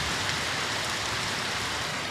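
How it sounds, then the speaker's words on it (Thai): Steady rain pours down during a thunderstorm in a dense, even hiss, close and fairly loud, with no voices. "ฝนฟ้าร้องครับ"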